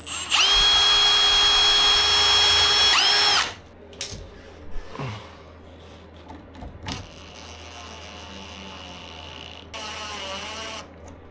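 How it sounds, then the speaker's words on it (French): Power drill pre-drilling holes in oak: a sustained high whine for about three seconds, then scattered handling knocks and a couple of shorter drill bursts, close and clear with no talk. "étant donné que c'est dans du chêne, j'amorce les trous"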